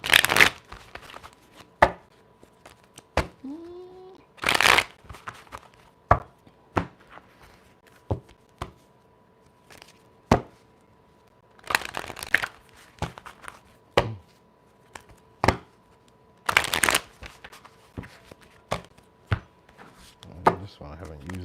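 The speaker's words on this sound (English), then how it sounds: "Okay, quick shuffle." Tarot cards shuffled quickly in a few bursts of riffling and slapping, with short sharp taps between them, close and fairly loud, and no talking.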